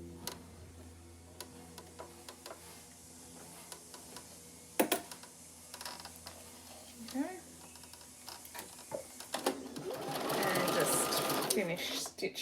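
Sewing machine stitching a plastic pocket, heard as scattered clicks and short bursts before a louder stretch of whirring stitching near the end, with a person talking over the quieter parts.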